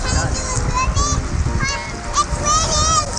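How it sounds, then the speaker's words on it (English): Heavy rain pours down outdoors at Karon Beach in Phuket, Thailand, a steady loud wash of noise that runs the whole time while children and other people talk and call out over it. "It's raining. It's pouring."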